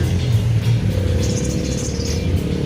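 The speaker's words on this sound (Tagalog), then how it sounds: "Sakay na kami ng jeep pa uwi." Inside a crowded, hot jeepney on the road, the engine drones and rattles steadily up close, with road rumble and passing traffic around it.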